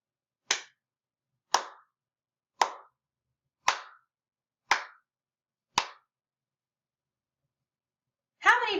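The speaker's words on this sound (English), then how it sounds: "I clapped 6 times." Six single hand claps at an even, unhurried pace about a second apart during a Spanish counting lesson, each crisp and close in near silence, followed by a short burst of voice.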